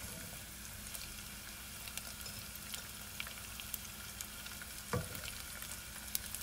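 Chopped onions frying in a pan with golden Asian-style chicken wings in a home kitchen, a steady close sizzle with faint crackles and a soft stir or clatter near the end.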